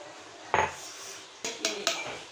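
A spoon clanks against a metal pot while colored rice for mutanjan is mixed, giving a few scattered metallic scrapes and knocks, close and moderately loud.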